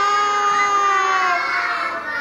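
A group of schoolchildren imitates a buffalo's call during a classroom animal-sounds game, holding a loud, steady, drawn-out chorus of voices for about two seconds.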